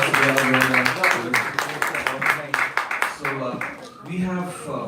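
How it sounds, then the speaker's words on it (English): Clapping from a small crowd at a New Year's event, a run of uneven claps heard beneath and between a talking voice before fading out. "Please join me in giving a round of applause to"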